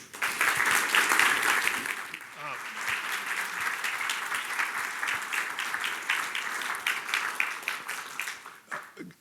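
An audience applauds to welcome the poet Dana Gioia at an abbey library art symposium: a sustained wash of clapping from a full room, strongest at the start and then steady until it fades out at the end.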